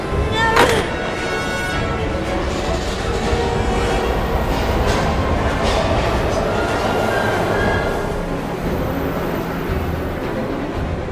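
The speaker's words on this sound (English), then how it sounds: "We've got to get on that train, Ethan." A train in the video game Heavy Rain rumbles steadily with a loud rolling roar and metallic rattling, a sharp squeal near the start, continuing without pause.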